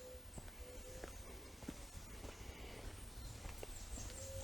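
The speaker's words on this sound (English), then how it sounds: "The footsteps you're hearing are yours," Soft, irregular footsteps along a path through a 53-acre flower forest at daybreak, faint and close, over a low steady outdoor hum.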